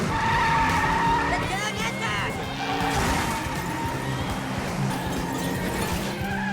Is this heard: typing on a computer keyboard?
no